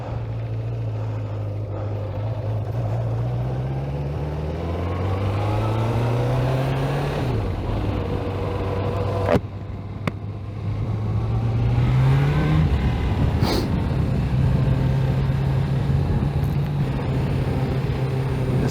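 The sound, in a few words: 1985 Kawasaki GPZ600R motorcycle engine riding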